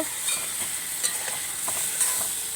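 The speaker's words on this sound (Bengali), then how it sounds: "জিরে গুঁড়ো লঙ্কা গুঁড়ো হলুদ গুঁড়ো নুন নিচ্ছি ভালো করে ভালো করে একটু কষিয়ে নেব" Ground cumin, chili, turmeric and salt sautéing in a pan with cauliflower and potato, a soft steady sizzle with a few light stirring scrapes, close and alone.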